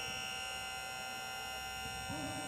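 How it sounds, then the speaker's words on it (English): Automatic buzzer at a basketball game, a sustained electronic tone holding steadily over the arena's background noise, with a faint voice rising near the end. "Automatic buzzer to, sir."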